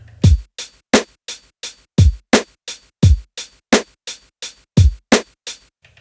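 A steady drum pattern from an MPC 1000 sampler, punchy kicks and crisp snares with hi-hats, looping evenly at a moderate tempo with no voices.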